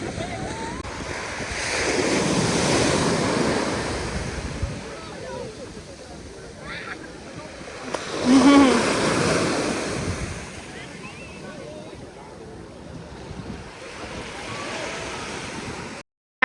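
Ocean waves rolling in and washing up on Eagle Beach, Aruba, swelling surges with wind buffeting the microphone and a brief voice in the middle.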